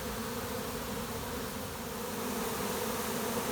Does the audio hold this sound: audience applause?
no